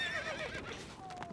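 A horse in the game Stronghold: Crusader whinnies with a high, wavering neigh, followed by fainter trailing calls and soft hoof sounds, fairly quiet overall.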